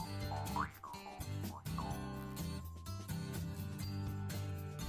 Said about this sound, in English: I'm trying to learn the jaw harp